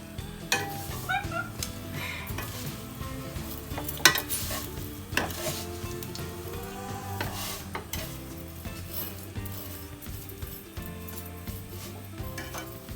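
Sevaiyan vermicelli roasts in a pan while being stirred, with continuous soft sizzling and scraping under scattered metallic clinks of the spoon against the pan.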